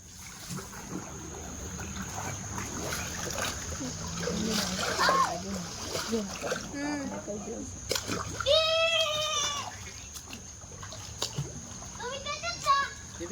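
Water splashing in a swimming pool as children play, bursts of splatter rising and falling close by, with children's voices and chatter over it.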